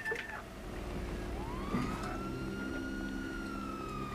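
A fire engine siren in GTA Online wails steadily and loudly throughout, with rising and falling tones over a constant rumble of traffic and engine noise, no voices present.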